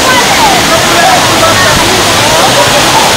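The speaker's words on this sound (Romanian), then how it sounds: "să ne apropiem de cascada!" An artificial waterfall pours into a pool at the Hajdúszoboszló thermal spa, a loud continuous rush with sloshing water and crowd voices mixed in throughout.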